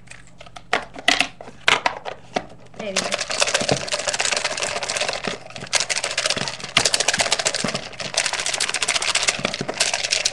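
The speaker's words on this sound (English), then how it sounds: "Actually, let's transfer it to this box. There's more space for it to be shuffled." Paper contest entries rattle and tumble as they are shaken in a box to shuffle them, a dense continuous rustling clatter close by after a few sharp taps, with a brief spoken remark near the start.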